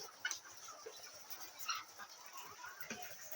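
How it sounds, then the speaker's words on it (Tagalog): Chickens cluck and squawk in scattered bursts over a faint, noisy farmyard background, fairly distant and moderately quiet. "boses ng manok. Parang nagkakanta sila."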